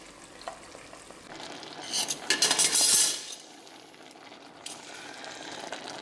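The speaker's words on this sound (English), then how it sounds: "I'm going to take some of the broth that is here, and that will also go on my collard greens" A ladle scooping ham bone broth from a cooking pot, a brief burst of sloshing liquid and metal clinks in the middle, with quieter pot clatter before and after.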